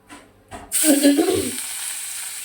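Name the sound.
fish frying in hot oil in a wok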